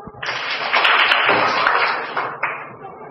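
A group of children claps their hands together in a classroom, a dense burst of close, sharp claps sustained for a couple of seconds before trailing off.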